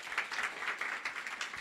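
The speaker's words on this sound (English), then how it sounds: "Let's give them a big round of applause." An audience at a policy roundtable claps in a soft, continuous patter of applause with small swells, fairly distant and quiet.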